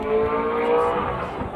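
Race car engines at the Road America racetrack, a sustained high-pitched engine whine that swells and fades as the cars pass at a distance.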